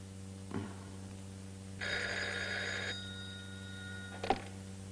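A telephone rings in a North Korean film: one short buzz, then a sustained electric bell ring lasting about a second, followed by a click as the receiver is lifted, with a steady low hum underneath.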